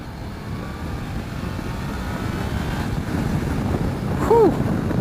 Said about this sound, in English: we'll pull out, give this quick shifter a crack, give some turns a crack